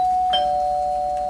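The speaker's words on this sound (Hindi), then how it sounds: "दरवाजे की घंटी बजी" A doorbell rings once indoors, a clear sustained electronic chime tone with a brief strike partway through, heard alone and close.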